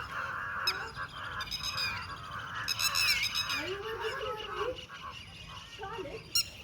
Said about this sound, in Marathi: बाहेर इतका पक्ष्यांचा गोंधळ उठला होता